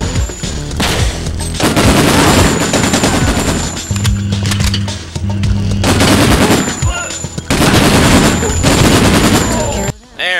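Enemy gunfire in the video game Breakdown: loud, dense machine-gun bursts and shots rattle almost continuously, with a brief lull near the end.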